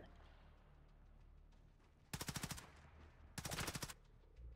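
Video game grenades that mimic gunfire go off in two short, rapid bursts of crackling shots, loud and staccato like machine-gun fire, against a quiet background hum.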